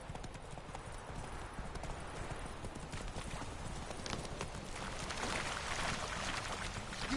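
Horse hooves galloping in The Witcher 3 video game: a steady, fast clip-clop of hooves over a constant rushing wind-like background, moderately faint and unbroken throughout.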